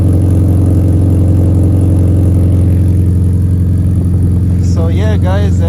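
A Honda K20 engine runs through a 3-inch exhaust with a Vibrant resonator, giving a loud, steady, deep drone throughout. A few brief higher chirps appear near the end.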